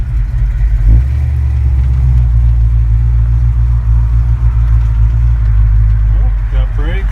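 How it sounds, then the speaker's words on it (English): A 1976 Ford F150 truck with a Crown Victoria engine swap and new power steering lines on a test drive: a loud, close, steady low engine drone and road rumble, with brief higher squeaks near the end. "Truck drives really nice."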